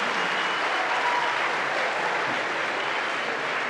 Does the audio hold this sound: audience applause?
yes